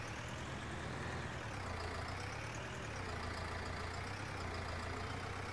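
A tractor engine in Farming Simulator 19 drones steadily and continuously, a dense rumbling hum with a slight rise and fall in pitch, heard alone with no voices.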